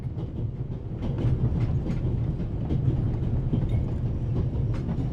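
A moving steam train with a coal car, from the video game The Raven Remastered, gives a continuous low rumble with rhythmic clickety-clack of wheels on track, steady and fairly loud with no talk.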